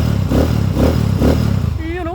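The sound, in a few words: Honda TMX155 motorcycle engine converted to 200cc revving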